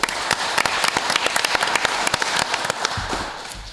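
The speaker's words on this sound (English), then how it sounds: "Let's give Captain Reed an applause" Applause breaks out at a city council meeting, a dense, steady patter of many hands clapping close by for the full stretch with no talk over it.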